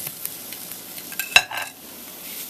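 Chilaquiles tortillas are cut in a hot Teflon pan, giving a soft steady sizzle broken by a few sharp scraping clicks of the utensil against the pan surface.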